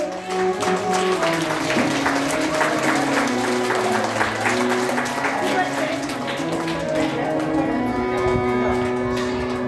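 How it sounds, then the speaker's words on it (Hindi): Audience applause at a Parents Worship Day school function, with sustained clapping from a crowd running under a steady musical drone and held tones throughout. "जोरदार ताली हो जाए पूजा करने के लिए।"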